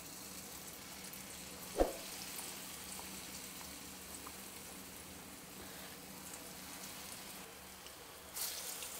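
Potato fritter batter for batata bhaji drops into hot oil and fries with a soft, continuous sizzle and crackle, marked by one sharp clink early on and a brief louder burst near the end.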